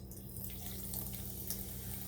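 Grapefruit juice is poured into a mimosa glass holding ice, giving a steady liquid trickle with small drips and splashes, close and continuous, with no talking.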